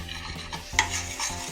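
Jamaican Betapac curry powder is stirred into hot oil in a pot, with a soft sizzle, scraping spoon strokes and a brief clink of utensil against metal, close and fairly quiet.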